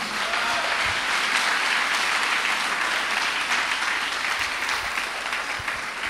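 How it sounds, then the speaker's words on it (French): Church congregation applauding the Lord at a Pentecost service, sustained, dense clapping from many hands filling the room at a steady, loud level with no talk over it. "On peut acclamer le Seigneur"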